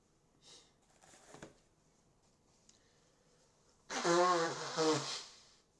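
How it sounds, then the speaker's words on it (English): A person blows their nose into a tissue, a loud wet honking burst near the end preceded by a few softer sniffs and snorts, close to the microphone. "Sorry for blowing my nose on stream."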